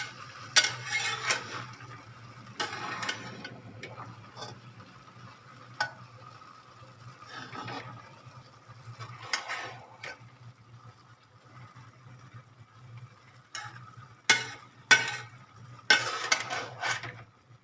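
Fried vegetables are stirred into a pot of egg-vegetable biryani, with scattered scraping, clinking and tapping of a spoon against the pot in short bursts over a quiet low hum.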